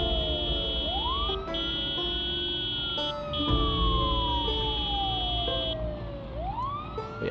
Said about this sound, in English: turn the siren off so that the car's easier to jump out of when we get there